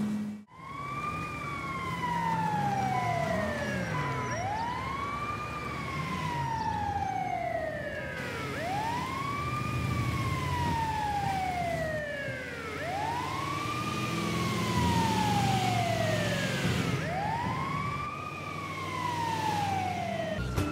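Ambulance siren from GTA 5, a loud wailing tone that sweeps up and down in repeated cycles about every four seconds, continuous over traffic noise with no talk.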